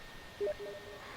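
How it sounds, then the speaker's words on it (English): A short two-tone computer notification chime from Steam pops up once, faint and brief, over quiet background hiss. "I have Steam notifications on too?"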